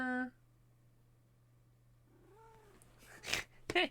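A house cat lets out one brief, soft murr with a gently falling pitch in a quiet room, followed by a few short rustling bursts nearby.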